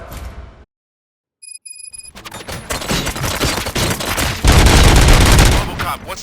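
Rapid gunfire from a firefight in the RoboCop: Rogue City video game, with dense, loud overlapping shots and bursts building after a brief silence and a few electronic tones.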